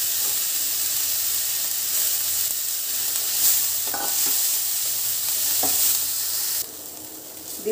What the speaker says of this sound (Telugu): ఇప్పుడు ఈ రొయ్యలు ఉన్నాయి కదా, ఇవి కూడా లైట్గా ఫ్రై చేసుకుందాం.